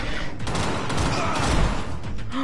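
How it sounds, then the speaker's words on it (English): Rapid gunfire rattles in bursts during the Sewer Beast boss fight in Vampyr, a dense continuous volley of shots heard alone and fairly loud throughout. "I'm trying to get some shots off on him."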